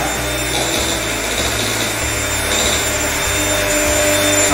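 An electric mixer whips egg whites at high speed, its motor whining in a loud, steady drone with slight shifts in pitch as the beaters move through the bowl, close and uninterrupted.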